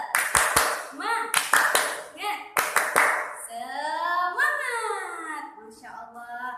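Children in an Islamic classroom perform the 'tepuk semangat' clapping chant, with sharp clap clusters in rhythm alongside a teacher's counting and loud voices chanting together, close and lively.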